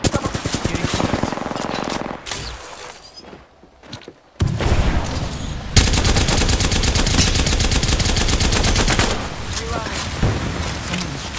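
Rapid automatic gunfire from an Apex Legends firefight rattles loud and close in long sustained bursts, briefly dropping out before resuming, with voice chatter mixed underneath.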